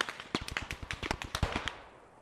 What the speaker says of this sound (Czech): A co tady střílí